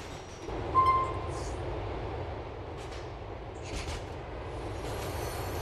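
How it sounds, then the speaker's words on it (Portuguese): A train rumbles along iron rails in the video game GTA 4, a steady low grinding roar of wheels on track with faint squeals and rattles, continuous and fairly close. "é o atrito do trilho com a roda, né? De ferro"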